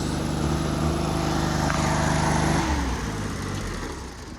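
Small engine of a John Deere 322 lawn tractor, overfilled with oil and running poorly at higher RPM, roaring loud and close at speed, then easing slightly in pitch and volume toward the end.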